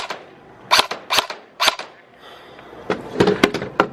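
A shooter firing rounds one-handed lets off several sharp, close gunshot cracks in an irregular sequence with short pauses, ending in a quicker cluster of shots.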